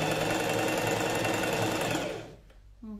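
A sewing machine runs a backstitch and then stitches on along a coat seam, a fast, steady mechanical chatter that stops near the end and leaves a short quiet tail.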